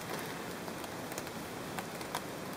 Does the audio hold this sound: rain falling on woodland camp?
yes